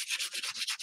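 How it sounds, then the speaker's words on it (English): Sandpaper rubs back and forth to remove a stuck napkin edge, about eight quick, even scratchy strokes close up and fairly quiet, with no talking. "Let me sand my edge."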